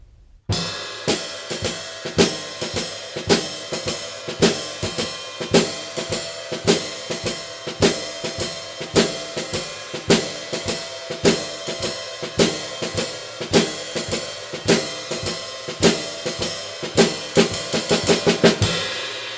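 A slow, steady rhythm-and-blues drum groove with evenly spaced kick and snare hits and ringing cymbals, played alone and loud throughout.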